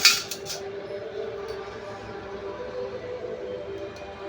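A small child hangs a metal spoon on a kitchen dish rack, giving a few bright metallic clinks at the start, then a low, faint background hum.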